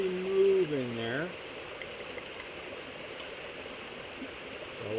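Water with ground beef simmers in a pot on a camp stove, a steady soft bubbling hiss heard close up throughout, with a brief voice over it at the start.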